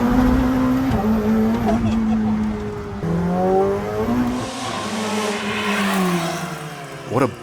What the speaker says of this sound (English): Introducing the Ferrari 488 Challenge Evo, a purpose-built factory Ferrari race car